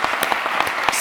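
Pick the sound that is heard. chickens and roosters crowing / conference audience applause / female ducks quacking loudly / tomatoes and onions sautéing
conference audience applause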